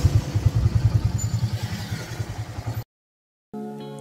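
A motorcycle-tricycle engine chugs with a steady, rapid low pulsing while riding at moderate speed on a bumpy road. It is close and loud, then cuts off abruptly into silence before music begins.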